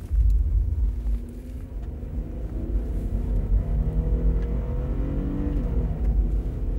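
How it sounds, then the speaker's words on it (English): A 1989 Mazda MPV accelerating hard toward 100, its engine droning loudly from inside the cabin, the pitch climbing steadily through the gears with a low road rumble underneath. "we're going to run the Mazda MPV up to 100 and see how long it takes."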